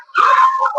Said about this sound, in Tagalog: Ang ingay dyan sa iyo, para maraming aso.